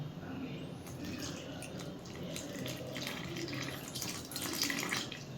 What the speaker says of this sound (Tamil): இந்த டைமில் நம்ம கொஞ்சம் பால் ஊற்றிக்கலாம்.